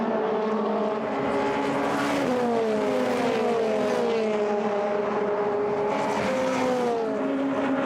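Several Formula Renault 2.0 race cars scream past at Monza toward the Parabolica. Their high-revving engines wail continuously and overlap, with pitches sliding down as the cars pass and fade, loud and close.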